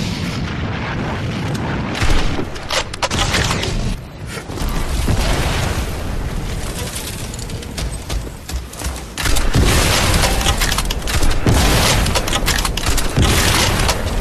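Grenade explosions in the shooter game Crysis 3, a dense, loud barrage of booms and blasts layered over continuous battle noise with no pauses.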